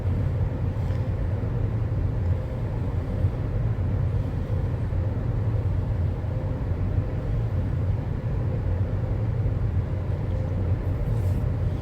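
A Class 350 electric multiple unit slowing under braking in Train Sim World 5: a steady, loud, low rumble of the train in motion that holds evenly for about twelve seconds.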